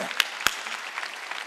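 Applause from a church congregation during a sermon: two sharp, loud claps stand out early over a thin, scattered patter of clapping in a brief burst.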